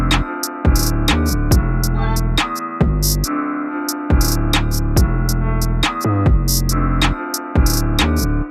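Full UK drill beat in the Bandokay style with a heavy 808 bass line, a melody and crisp hi-hats, playing loud and continuous in a steady bouncing rhythm.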